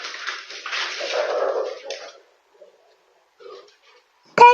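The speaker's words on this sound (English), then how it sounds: "This dog suffers from psychomotor seizures as a second dog helps him" A dog with psychomotor seizures, helped by a second dog, whimpers and whines in a long strained stretch, then goes mostly quiet before a sharp yelp at the end.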